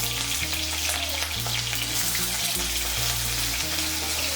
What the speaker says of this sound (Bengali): এর মধ্যে প্রথমে আমি আলু আর বরবটিগুলো ভেজে নেব।